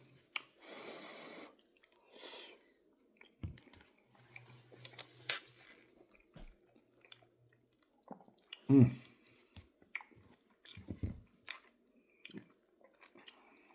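Someone chews a smoky chipotle chicken burrito bowl with black beans, giving soft, wet, intermittent bites and squishy mouth sounds with quiet gaps between them, close to the microphone.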